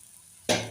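Oil poured around a crispy dhapate flatbread on a hot pan bursts into a sudden loud sizzle after a quiet moment, then hisses on strongly, close by.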